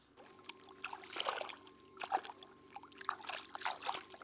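Freshly dug crabs are washed in water, with short bursts of splashing and trickling in quick succession at close range. No one speaks.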